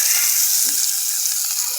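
Mustard seeds, two dried red chilies and asafoetida tempering in hot oil, then tipped into a pan, giving a loud, close, continuous sizzle and hiss with no voices.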